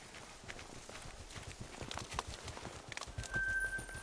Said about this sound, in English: Oh, we're getting run over by pigs.